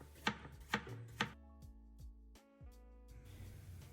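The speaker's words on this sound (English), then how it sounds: "Now we slice half of a small cucumber which will marinate as well." Half a small cucumber sliced with a knife on a cutting board, three crisp close chopping strokes in quick succession, then quieter knocks and clatter with a faint ringing tone behind.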